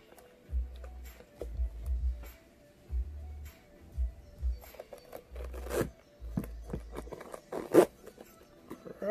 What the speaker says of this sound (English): you have the zipper on both sides, and they work.